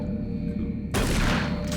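Automated turret guns open fire in Doom 3, erupting abruptly into a loud, dense, sustained burst of rapid shots over a steady low game hum.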